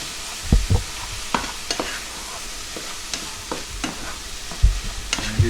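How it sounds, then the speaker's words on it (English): Rice with marinade sauce stirred and fried in a pan, a steady sizzle broken by scraping utensil strokes, with a few louder knocks near the start and end. "And we're just going to fry that stuff around there."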